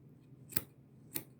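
Sharp scissors trim fabric around an embroidery hoop: two quiet, crisp snips about half a second apart, isolated against faint room background.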